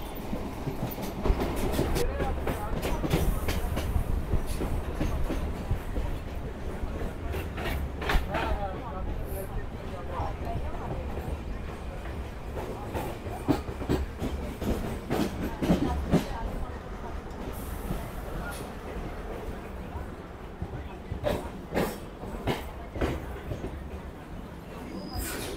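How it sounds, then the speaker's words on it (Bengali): Sealdah–Dankuni local train running toward Baranagar Road, a continuous loud rumble with rattling clatter and sharp clicks of wheels over joints, steady throughout with faint voices in the carriage. "তাহলে বন্ধুরা ট্রেন এখন চলে এলো বড়ানগর রোডে"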